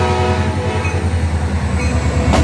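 Charger passenger locomotive pulling away with a steady, loud diesel rumble and sustained horn tones, joined by faint rhythmic wheel clatter over rail joints.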